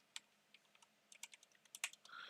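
Numbers are tapped out on a keyboard in a quiet room, a faint, irregular series of light clicks and keystrokes with no voices.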